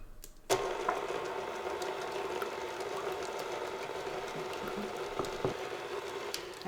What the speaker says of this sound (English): And we'll let the mixer do the work.